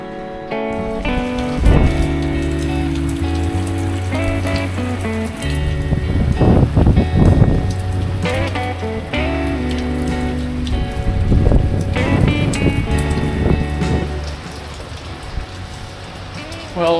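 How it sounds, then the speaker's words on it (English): Heavy rain pours steadily, drumming on a hard surface and mixed with a low hum and background tones throughout. "pretty crook afternoon, lots of rain"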